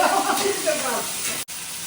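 Chopped onions hit hot cooking oil in a home kitchen pan, giving a steady close hiss and crackle of frying that holds for nearly two seconds with a brief gap near the end.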